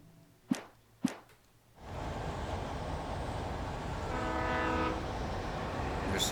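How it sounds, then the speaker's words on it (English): A train rumbles past in the Alan Wake video game, its sustained rolling noise rising and holding steady with a horn blaring over it, following two sharp isolated knocks at the start. "There's the train."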